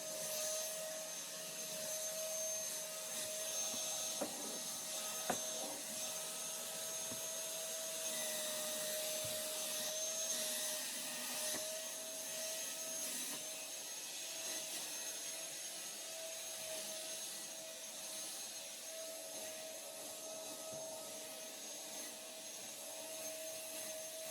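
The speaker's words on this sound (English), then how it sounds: "I grabbed the vacuum and gave it a quick spin around the room" A household vacuum cleaner drones steadily throughout as it is pushed around a room, a constant whining motor hum with faint bumps and knocks, with no talking.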